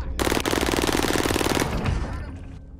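A rapid, loud burst of automatic gunfire from a video game, a dense stream of shots lasting over a second before cutting off and trailing into a faint tail.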